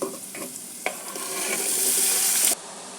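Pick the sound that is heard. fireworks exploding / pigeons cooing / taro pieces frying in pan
taro pieces frying in pan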